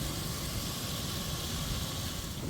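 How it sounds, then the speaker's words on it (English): A soft, steady hiss of food sizzling in a covered pot, constant and fairly quiet with no voices. "Just hear that sizzle."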